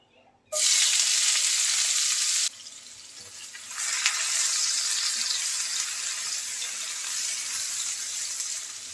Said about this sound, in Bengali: এখন এই পেঁয়াজটা একটু ভেজে নেব